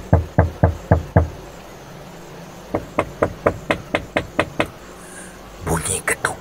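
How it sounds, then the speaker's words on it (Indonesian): Knocking on a living-room window in an apartment: a quick series of five sharp raps, a pause, then a longer run of about ten evenly spaced knocks, close and distinct over a quiet hiss. "bunyi ketukan. Tetapi ia bukan dari pintu rumah. Ia datang dari tingkap ruang tamunya"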